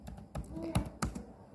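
Keystrokes on a computer keyboard while entering table fields in a software tutorial, several distinct close taps in an uneven rhythm over a quiet background.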